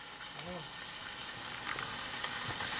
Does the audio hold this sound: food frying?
yes